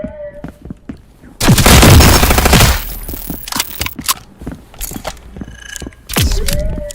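A loud close burst of P90 submachine-gun fire in a video game, a dense rapid stream lasting about a second, surrounded by scattered clicks and impacts, with another burst starting at the end.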